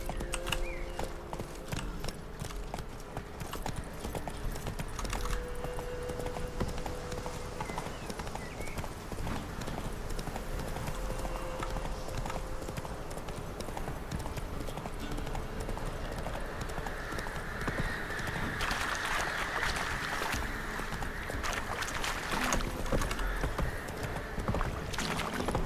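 Hooves of Roach, Geralt's horse in The Witcher 3: Wild Hunt, clip-clop steadily at a riding pace for the whole stretch under a dense game soundscape of music and ambience, with occasional horse snorts.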